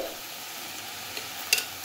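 A soft, steady sizzle of finely chopped onion frying in ghee, with a faint clink or stir near the end; no talking.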